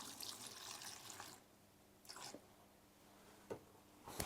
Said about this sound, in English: what we need to do first is to add a small amount of clean cold water